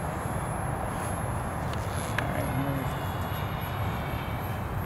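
A 1.2 m CCM Riddick RC flying wing drones steadily under throttle, its motor and propeller giving a faint, even whir against open-air background noise with no talk.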